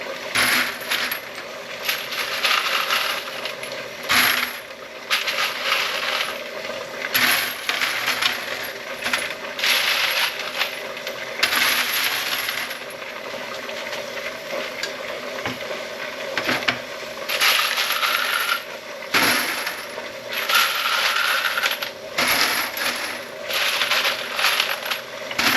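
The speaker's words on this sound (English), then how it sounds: "Just pile them in there." Spent 5.56 brass cartridge cases pour and clatter into a container, loud continuous metallic jingling in repeated bursts with brief pauses, close up and without talk.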